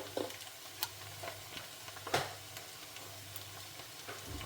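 Tomato rasam with rasam powder being stirred in a pot, soft scraping strokes and a gentle sizzle over a steady low kitchen hum, no talk.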